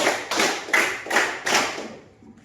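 Students in a classroom clap together on command, five evenly spaced loud group claps in a steady rhythm, then silence.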